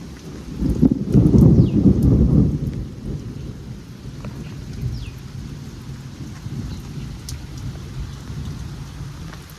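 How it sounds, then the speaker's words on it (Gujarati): Steady rain pours down outdoors while a low rumble of thunder swells early on and fades, leaving the constant patter of rainfall. "વરસાદ ચાલુ છે"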